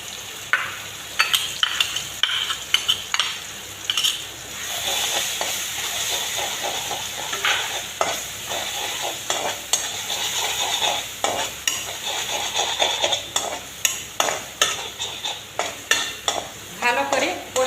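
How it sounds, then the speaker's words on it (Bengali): Spice paste stirred and sautéed with browned chopped onions in a pan for a curry, a steady close sizzle broken by repeated scraping strokes of a spoon that grow sharper and more rhythmic toward the end. "ভালো করে কষিয়ে নিচ্ছি মশলা।"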